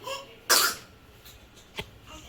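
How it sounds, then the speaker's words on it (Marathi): A single sharp child's cough bursts out near the mic, followed by a fainter short cough a moment later, against a quiet room. "आज अजून खोकला वाटून राहिला त्याला"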